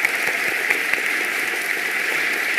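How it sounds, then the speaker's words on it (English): Audience applause after a song and dance performance at a global unity event, a steady even patter of many hands that is moderate in level and sounds somewhat distant, with no voices. "Let's give them another round of applause."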